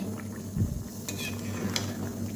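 Potatoes for Kashmiri aloo dum are stirred in ghee in a pot, with a few close scraping strokes and a soft sizzle over a steady low hum.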